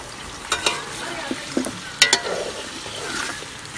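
Mutton pieces frying in a sizzling green masala for yakhni pulao, with a few sharp splatters and clanks of stirring over a steady low sizzle, close and moderately loud.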